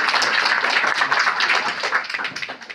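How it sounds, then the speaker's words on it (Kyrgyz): Round of applause from a school audience welcoming a guest, dense steady clapping held for a few seconds before thinning out toward the end. "Бир кол чабып күтүп алды"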